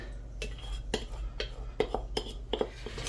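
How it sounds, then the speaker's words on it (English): Apple coleslaw being stirred in a bowl, with soft scraping and several light clinks of a utensil against the dish in an irregular rhythm, close and fairly quiet. "And we're just gonna mix this all together."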